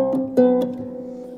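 A concert harp's C pedal is shifted, giving a few quick close mechanical clicks over a sustained ringing string tone in a short, quiet moment.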